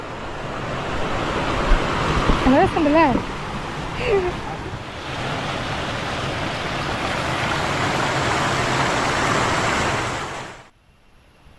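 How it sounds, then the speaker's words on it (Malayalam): Steady rushing water, like a small waterfall, runs throughout, with a person speaking briefly over it before it cuts off. "ഇവിടെ വെള്ളച്ചാട്ടം, കുഞ്ഞു വെള്ളച്ചാട്ടമാണ്"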